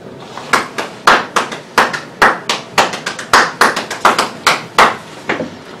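Hands clap out a drum rhythm, a steady run of about twenty loud, close, sharp claps in an even, slightly syncopated pattern, with no other sound.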